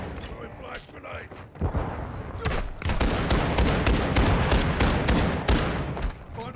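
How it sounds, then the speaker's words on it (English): A flash grenade goes off in Modern Warfare 2 (2022) during a raid, followed by sustained loud gunfire and blasts that crackle densely for several seconds, close and chaotic, with players talking amid the noise. "Throwing flash grenade."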